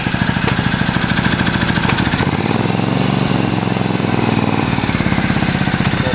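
A Triumph motorcycle engine idles loudly and close with the choke applied, a fast, steady, throbbing putter whose tone shifts partway through as the idle changes.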